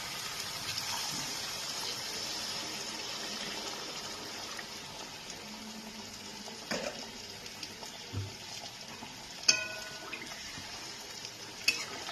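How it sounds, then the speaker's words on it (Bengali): Water is poured into a pan of potatoes cooked in spices, giving a steady rushing hiss that fades off, followed by a few light clinks of the pan and utensil, close by and without talking. "এবার আমি এর মধ্যে পরিমাণ মতন জল দিয়ে দিচ্ছি যাতে আলুটা ভালো করে সেদ্ধ হয়"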